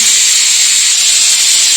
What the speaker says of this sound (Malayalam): നമ്മൾ രണ്ടാമത്തെ വിസിലും കേട്ടു നമുക്ക് തീ ഓഫ് ചെയ്യാം